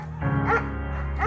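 A shepherd dog in the video game Firewatch gives a short run of close, loud barks and whimpering yips over about a second, with game music faintly underneath.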